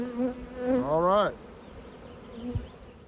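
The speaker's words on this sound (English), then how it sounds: "bees are just flying around" Honey bees fly around their colonies in the open air, with a close buzzing that rises in pitch as a bee passes near and then fades, while other bees hum faintly in the background.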